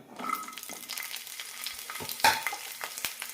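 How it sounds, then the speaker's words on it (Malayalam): About fifteen small onions and six or seven garlic cloves frying in a teaspoon of oil in a pan for horse gram curry, with continuous sizzling and sharp stirring scrapes and clinks close by, no talk. "പാനിലേക്ക് ഒരു ടീസ്പൂൺ എണ്ണ ഒഴിച്ചിട്ടുണ്ട് ഇനി ഇതിലേക്ക് പതിനഞ്ചോളം ചെറിയ ഉള്ളിയും ആറോ ഏഴോ വെളുത്തുള്ളി അല്ലി കൂടി ഇടാം"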